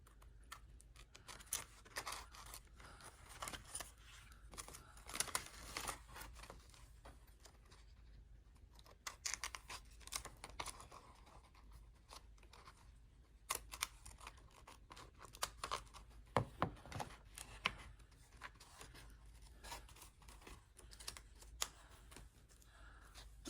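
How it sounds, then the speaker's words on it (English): Scissors snip through patterned paper from a 6x6 paper pad for card making, giving faint, close, crisp cuts in irregular bursts with quiet paper rustling between them. "I'll just cut this off."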